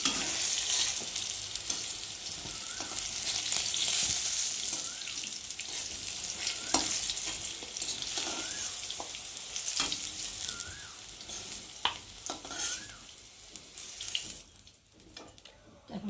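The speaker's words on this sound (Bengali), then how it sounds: "লাল লাল করে বেগুনটা ভেজে নিয়েছি" Eggplant slices fry in hot oil in a kadai, a steady, loud, close sizzle and crackle running throughout with a few sharp utensil clinks and no talking.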